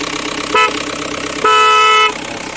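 Two honks from a Mahindra Scorpio CRDe horn: a short toot, then a longer blast of about half a second. Both are loud and close, over a steady idling engine.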